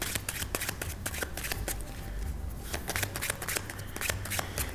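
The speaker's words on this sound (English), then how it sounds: "what I'm going to do is I'm going to give him a shuffle" A deck of playing cards is shuffled by hand during a close-up magic performance, with quick rapid riffling and flicking clicks heard close and steady throughout.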